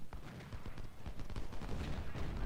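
Infantry volleys in the Civil War strategy game Ultimate General: Civil War: a dense, distant crackle of rifle fire rolling on continuously, with scattered louder pops over a low rumble, and no voices.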